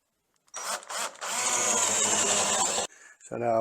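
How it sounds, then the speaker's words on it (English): Power drill boring a hole into a wooden piece of a Christmas tree decoration, short bursts as it starts, then a sustained whirring grind that cuts off abruptly, followed by a brief voice. "We'll drill it in."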